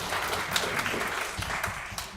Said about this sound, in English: Another big round of applause for Achen.